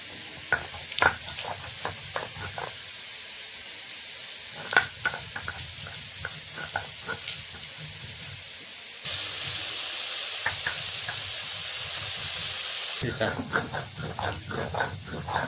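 Vegetables fry in a pan. Uneven metallic stirring clatters sit over a low sizzle, and a steadier, louder hiss swells for a few seconds in the middle.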